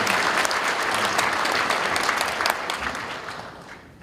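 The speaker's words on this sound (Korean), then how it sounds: "우리 일어서지는 마시고 선교사님들에게 박수합시다." A church congregation applauds missionaries during an anniversary worship service, a dense, sustained wash of many hands clapping together that fades slightly toward the end.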